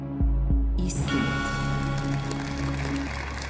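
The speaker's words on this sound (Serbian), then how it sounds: "ovaj aplauz ste dobili za iskrenost" A TV game-show studio audience breaks into applause after a few low thumps, the clapping swelling into a broad steady wash that carries on under faint music.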